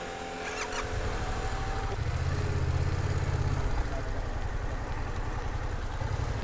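A Honda NC750X motorcycle engine idles on a riding-test training course, a steady, fairly loud low rumble that holds for the whole stretch with only slight changes in pitch and no voices over it.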